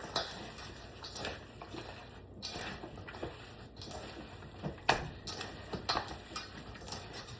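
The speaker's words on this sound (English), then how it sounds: "So we're gonna mix the meat all up." Meat being mixed by hand-held utensil in a lightly oiled baking dish, giving faint, irregular clinks, taps and scrapes against the dish, fairly quiet with short sharp peaks scattered through.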